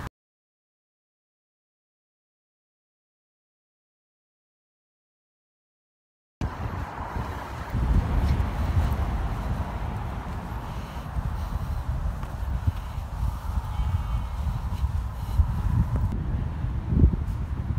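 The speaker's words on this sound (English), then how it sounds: "So it's a bit windy" Wind gusts buffet the microphone at an open campsite, a low rumbling roar with rustling that starts abruptly after several seconds of silence and continues steadily, no talking.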